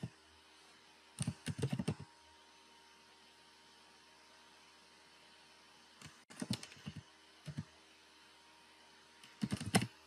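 Coding on a computer keyboard: three short bursts of rapid key clicks separated by quiet pauses, close-up and crisp over a faint steady background hum, with no speech.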